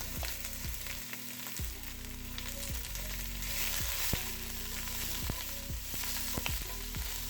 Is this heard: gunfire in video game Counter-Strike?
no